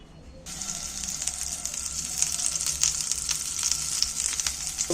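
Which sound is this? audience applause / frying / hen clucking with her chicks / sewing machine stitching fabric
frying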